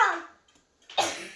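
A man with something stuck in his throat coughs, two harsh, close bursts separated by a brief quiet pause, the second sharper and louder.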